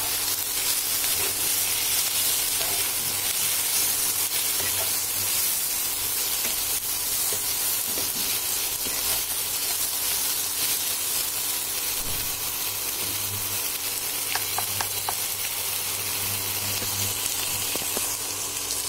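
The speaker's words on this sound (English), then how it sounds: "Now we will add the chopped tomatoes. And again we will saute it until the tomatoes get soft." Onions and chopped tomatoes sauté in a pan, giving a steady, fairly loud sizzle and hiss that runs unbroken, with occasional soft pops and stirring clinks.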